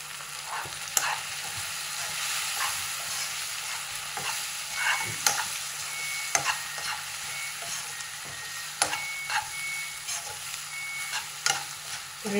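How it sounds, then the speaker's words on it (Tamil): Minced keema sautéing with chili powder in a pan, giving a soft continuous sizzle broken by scattered clinks and scrapes of stirring, moderately close. "ஒரு 2 நிமிஷம் இதை வந்து அப்படியே மிளகாத்தூள் வதக்கிக்கலாம்"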